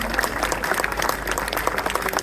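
Spectators at a car meet clap together in a short, steady burst of dense applause, close and fairly loud throughout.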